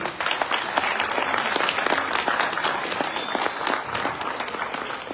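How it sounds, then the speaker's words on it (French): Sustained applause from a crowd at a coaching event, dense steady clapping from many hands holding an even level from start to finish. "On peut les applaudir s'il vous plaît."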